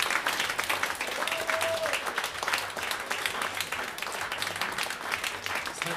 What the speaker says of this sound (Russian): Где ваши аплодисменты?